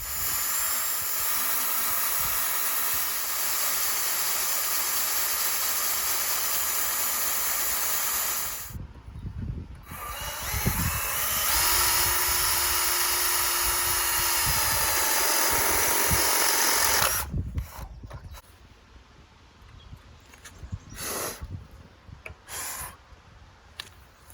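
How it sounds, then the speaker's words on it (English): Battery drill boring through a milling bar outdoors in an open field, a steady whirring drone with a brief break partway through, then stopping abruptly near the end, leaving quieter scattered sounds. "I'm in the middle of a field with a standard battery drill, and you'll see that I'll be able to drill the bar"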